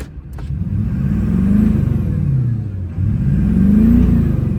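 A deep Duramax diesel truck engine with ongoing problems revs twice, rising and falling in pitch each time, loud and close with a heavy rumbling idle between.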